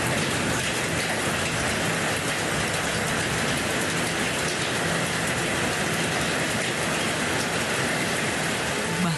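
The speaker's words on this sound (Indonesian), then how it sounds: "Hujan deras disertai angin kencang menerjang desa Telogo Agung, Kecamatan Baureno, Kabupaten Bojonegoro, Jawa Timur" Heavy rain driven by strong wind over a village in Bojonegoro, East Java, a dense, constant roar of downpour that stays loud and even from start to finish with no voices.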